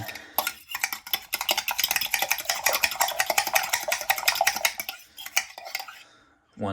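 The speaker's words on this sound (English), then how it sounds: "You really want to combine those whites and yolks" A fork beats eggs briskly in a bowl to combine the whites and yolks, making a rapid, steady run of clinking taps that stops abruptly near the end, close and fairly loud, with no talking.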